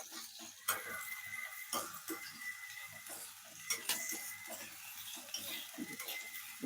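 Onions and green chillies fry in a pan with a soft, steady sizzle, broken by a few sharp clicks and scrapes of a utensil against the metal; no one speaks.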